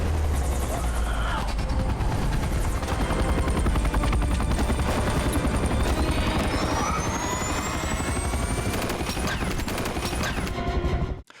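A helicopter roars loud and close in a World War Z film scene, with a heavy thumping rotor chop under whining turbine noise and bursts of gunfire-like crackle, cutting off abruptly at the end.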